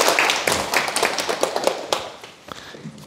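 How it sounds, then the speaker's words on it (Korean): Clapping from a gathered audience starts as a burst of sharp, close hand claps, then thins out into a few scattered, fading claps toward the end. "축하의 박수 부탁드립니다"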